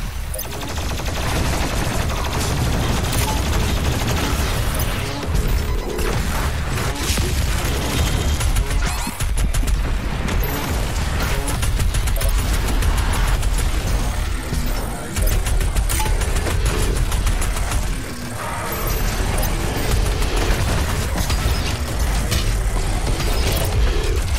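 Dense bursts of rapid gunfire and crashing impacts in the video game Doom Eternal fill the whole stretch, loud and chaotic, with engine-like rumbling underneath and no clear talking.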